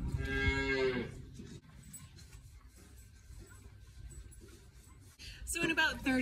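Friendly dairy cows on a farm moo loudly up close, with one long low call at the start and another at the end, while a person talks softly in between amid quiet rustling.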